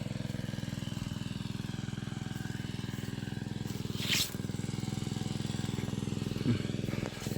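A water pump engine runs in a steady, rhythmic drone while pumping water to fields for rice seedlings, close and continuous, with a brief louder whoosh midway and a faint sharp knock near the end.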